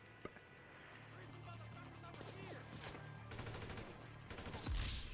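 Gunfire in the video game Grand Theft Auto V: several bursts and rapid volleys of shots at moderate distance, mixed with crashes and thuds, under ongoing game sounds and a voice.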